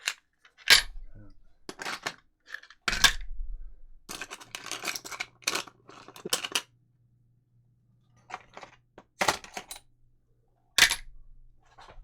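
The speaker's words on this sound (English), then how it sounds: "You can open them up and pop out the things that you need." Round miniature bases are popped out of a plastic storage box, giving a series of sharp, close snapping clicks with quiet pauses between them.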